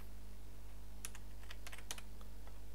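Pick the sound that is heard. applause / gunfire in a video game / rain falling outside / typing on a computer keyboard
typing on a computer keyboard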